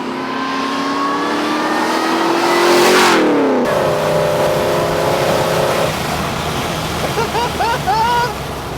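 Turbocharged Holden Kingswood engine revving hard and pulling steadily, pitch climbing then dropping at a gear change before rising again, loud and close inside the car, with a voice speaking over it.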